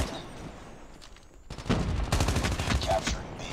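Gunfire in Call of Duty Mobile on the Scrapyard map: after a quieter stretch, rapid automatic bursts break out and continue loud and dense to the end.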